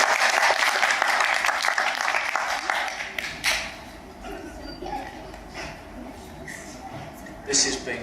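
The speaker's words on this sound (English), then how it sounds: "And clap her up." Audience at a voluntary awards ceremony breaks into sustained applause, loud and dense at first, then thinning into scattered clapping with a brief renewed swell near the end.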